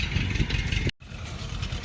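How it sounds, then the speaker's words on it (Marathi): A tractor sowing in a neighbouring field at sunset gives off a steady, loud engine drone with a low rumble. The sound cuts out for a moment and then returns at the same level. "हा ट्रॅक्टर पेरायला आलाय"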